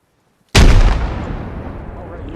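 A hand grenade bursts in an ARMA game session: one sudden, loud blast that erupts after a near-silent lead-in and then rolls off into a long, fading rumble.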